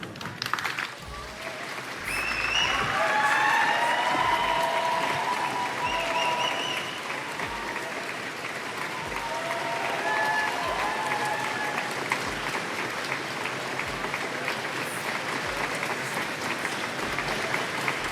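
Sustained applause and cheering from a large crowd greeting Prime Minister Keir Starmer, dense continuous clapping that stays loud and steady throughout with faint voices mixed in.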